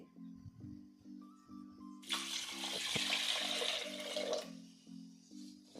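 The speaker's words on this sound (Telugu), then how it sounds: "తగినంత వాటర్ వేసుకోవాలండి" Water is poured from a vessel into sambar in a pressure cooker, a bright splashing gush lasting about two seconds, over a steady background hum and periodic tones.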